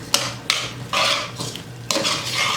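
Onions tossed into leftover steak juices in a pan, with clanks of a utensil against the pan and bursts of sizzling and stirring, close up.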